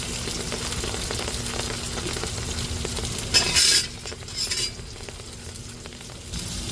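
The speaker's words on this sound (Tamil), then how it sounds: "நண்டை முதல்ல பொரிச்சுக்கிடுவோங்க. தக்காளி சேர்த்துக்கிடுவோம். கடுகு சேர்த்துக்கிடுவோம்." Crab fries in a pan with tomato and mustard seeds. A steady close sizzle carries stirring scrapes and a brief bright clink of metal partway through.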